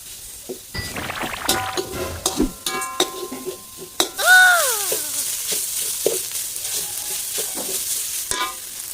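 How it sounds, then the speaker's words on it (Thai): Pounded roasted chili paste is stir-fried with minced pork in a hot pan, giving a steady sizzle with scraping stirs and a few clinks of the utensil against the pan, close and alone. "ใส่พริกเผาที่เราตำที่ละเอียดลงไปนะครับลงไปผัดกับหมูครับ"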